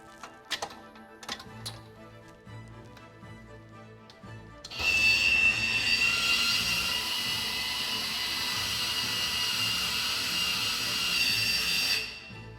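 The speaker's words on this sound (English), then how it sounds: "I will now open the switch electrically." An Eaton Power Xpert XGIS switchgear switch opening electrically: a few faint clicks, then a loud steady motor whir that runs for about seven seconds before stopping abruptly.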